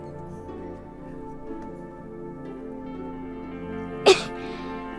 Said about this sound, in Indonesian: Kamu kok bersin-bersin tuh kan?